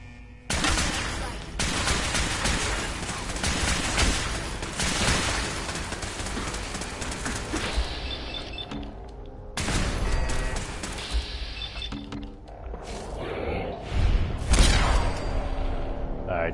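Enemy turrets in Fallout 4 fire in sustained loud bursts, with rapid gunfire, a pause, and then more volleys and impacts toward the end.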